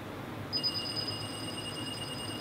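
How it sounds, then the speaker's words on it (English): A Gatekeeper locator device gives off a sustained high, pure electronic chime tone that starts partway in and holds steadily over a faint background hiss. "it will make your Gatekeeper emit this little chime"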